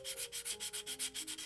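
Rhythmic back-and-forth rubbing of sandpaper sticks smoothing a large hand-built 3D pen sculpture, about ten quick even strokes, close and quiet with no voices.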